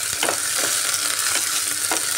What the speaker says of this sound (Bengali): হালকা ব্রাউন কালার আসা পর্যন্ত ফ্রাই করে নিচ্ছি।